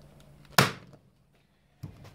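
A staple is banged into the seat cover of a Honda XL250 motorcycle during restoration, giving one sharp, close thunk and then a softer second knock after a brief pause.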